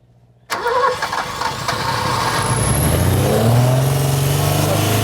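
An old BMW barn find, left unused for 30 years, cranks briefly and fires up, then settles into a loud, steady, fast-revving drone, heard close with a voice over it.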